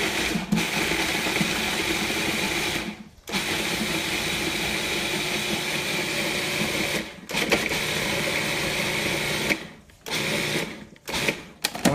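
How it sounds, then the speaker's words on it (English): Food processor pulsing in short bursts while making paleo risotto: a loud steady whir of the motor cut by several brief pauses, with the bursts coming quicker toward the end. "into the food processor. Just lightly pulsing it."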